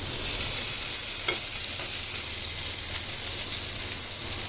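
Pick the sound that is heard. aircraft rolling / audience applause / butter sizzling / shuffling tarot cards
butter sizzling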